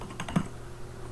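Typing on a computer keyboard: a short burst of a few quick, close clicks of keys in an indoor room, with no talking.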